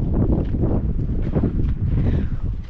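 Gusty wind on a beach in Portugal buffets the microphone with a steady, loud low roar that swells and eases throughout, with no voices.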